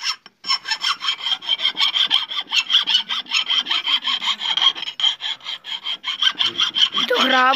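A metal file being worked by hand, a loud, close series of rapid rasping strokes in a steady back-and-forth rhythm, ending with a brief voice.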